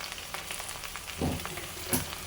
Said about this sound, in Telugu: ఈ 2 వేసేసి మనం చక్కగా దీన్ని ఈ 1 టేబుల్ స్పూన్ ఆయిల్లో మనము చక్కగా వేయించేసుకోవాలి